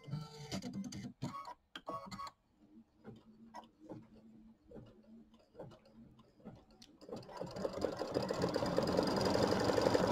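An embroidery sewing machine stitching lettering in a triple stitch on a quilt block, giving a rapid mechanical ticking and clatter that comes in short bursts with pauses, then settles into a steady, louder whirring run toward the end.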